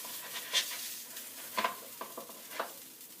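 A Cuban sandwich fries in a pan as its cheese melts, giving a soft, steady sizzle broken by a few brief scraping clicks.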